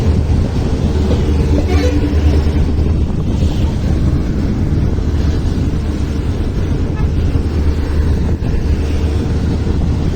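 Steady, loud rumble of a Mysuru to Chamarajanagar passenger special train rolling on rails, continuous throughout, with wind buffeting the microphone.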